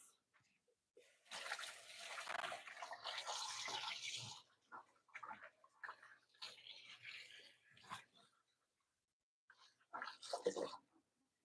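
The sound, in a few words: hands being rinsed under running water at a kitchen sink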